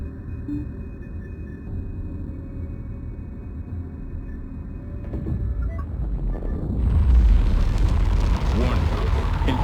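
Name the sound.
explosions of enemy ships in video game Homeworld 3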